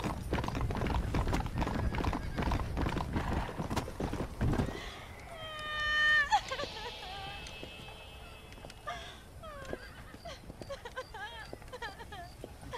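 Rhythmic hoofbeats of a video game horse clip-clop quickly up close, then the horse gives a loud, drawn-out neigh, followed by softer snorts and whinnies.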